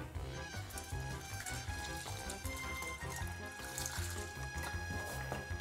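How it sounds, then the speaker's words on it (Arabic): Milk pours onto rolled oats in a bowl with a soft, continuous liquid splashing and trickling, faint beneath background music. "بعدين بنحط الحليب"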